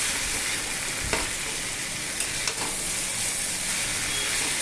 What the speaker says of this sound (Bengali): খুব সুন্দরভাবে এটা মিশাচ্ছি